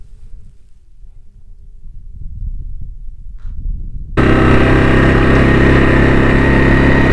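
An ATV engine running in a New Mexico desert canyon, first a low rumble under wind, then a sudden loud, close, steady drone as the machine takes over the sound.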